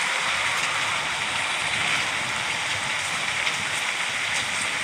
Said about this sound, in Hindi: बारिश बहुत ज़्यादा है आज।